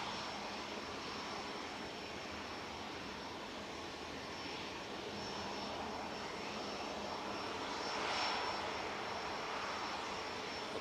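Jet airliner powered by two Rolls-Royce engines at Manchester Airport, a steady broadband roar holding at moderate level throughout, with a slight swell near the end and no voices.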